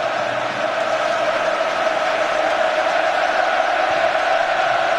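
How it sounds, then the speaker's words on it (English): A football stadium crowd at an England v Croatia match keeps up a steady, dense roar of chanting and cheering for England, loud and continuous throughout, with no single peaks standing out. "the crowd are doing their best to help dig England out of a great big hole"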